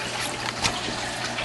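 Water drips and trickles into an aquaponics tank in a steady, soft, wet patter over a low continuous hum of running water from a nearby 55-gallon tank, with one brief louder splash near the middle.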